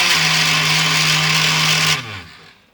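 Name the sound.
SABA electric knife sharpener grinding a screwdriver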